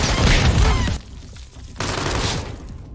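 Gunfire in Warzone 2 aimed at a decoy comes as dense, loud bursts of shots with a short lull between two volleys, heard close and with no talking.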